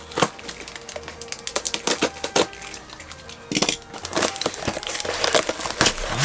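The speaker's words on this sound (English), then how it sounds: "let's cut open this little box here" A small cardboard parcel from mail is slit open with a box opener, giving crisp scraping and crinkling bursts with cardboard tearing, close up, in irregular strokes and no speech.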